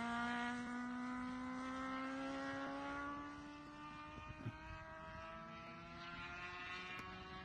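A Honda CBR motorcycle engine whines steadily at high revs on the Carole race circuit, pitch sliding gradually as it passes, heard at a distance with faint track noise.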